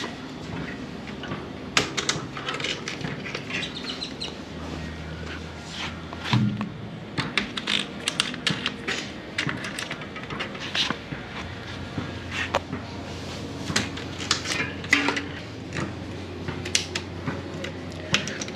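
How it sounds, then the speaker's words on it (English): Clamps being released on a Hollywood Racks Destination 2 platform bike rack, with a string of close metallic clicks, clunks and rattles spread irregularly throughout. "And you just release these clamps down here."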